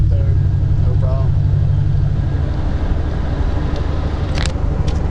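A supercharged 1997 Ford Mustang Cobra drives and shifts gears, its engine a loud, steady, close droning roar throughout, with a brief voice near the start.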